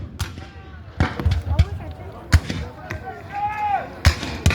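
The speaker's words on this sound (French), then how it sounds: "les Français et les obligés français vont essayer de l'atteindre en envoyant des obus sur la ferme que tiennent les Anglais" Cannon fire at a 210th-anniversary Battle of Waterloo reenactment, as shells are sent toward a farm held by the English: several sharp, booming blasts at irregular intervals, with a voice narrating beneath them.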